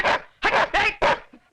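A dog gives four quick, loud barks in a close, snappy rhythm, followed by a couple of faint yips, in a Hindi comedy scene.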